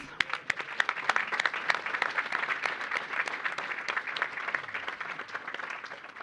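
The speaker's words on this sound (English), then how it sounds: "I think they deserve their own round of applause." An audience gives a round of applause for the parents at a finals event, steady dense clapping with a few sharper individual claps, sustained throughout.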